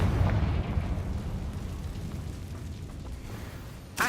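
A Confringo blast spell in the Hogwarts Legacy video game goes off as a loud, rumbling burst that fades over a few seconds, with a sharp new pop at the very end.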